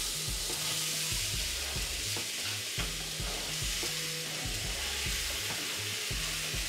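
Peppers fry in a pan for a vegan brunch, a loud continuous sizzle close by, with a pulsing low rhythm underneath and no voices.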